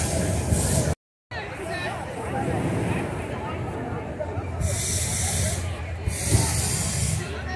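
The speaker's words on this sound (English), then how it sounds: "They are pumping the flame." Hot air balloon burners fire at an evening balloon glow show at Coney Island in Cincinnati, Ohio, giving several loud, rushing hiss bursts over steady crowd chatter and nearby voices.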